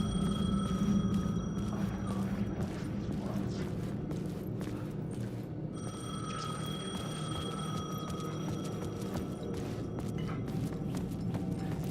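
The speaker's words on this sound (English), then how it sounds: "The phone was ringing." A telephone rings in the video game Alan Wake 2, its repeated tonal bell bursts holding steady over a dense, continuous background of game ambience for the whole stretch.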